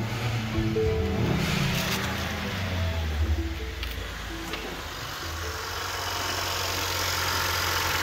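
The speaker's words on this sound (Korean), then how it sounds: "엔진은 잘 돌아갑니다." A scrapped Lincoln MKZ sedan idling after starting, a steady low engine hum with tonal drone holding evenly for about eight seconds, with faint clicks early on.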